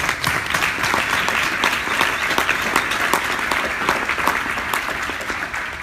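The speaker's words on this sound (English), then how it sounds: "I think we need a round of applause for them." Conference audience giving a sustained round of applause at a closing plenary session, a dense, even wash of many hands clapping at steady loudness throughout.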